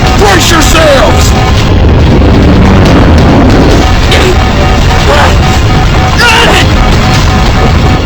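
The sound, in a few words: detonation explosion in the video game Road of the Dead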